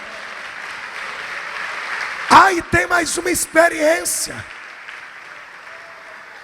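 Steady applause from a church congregation continues for a couple of seconds. Then a preacher starts speaking over it, and the clapping fades quietly beneath his voice.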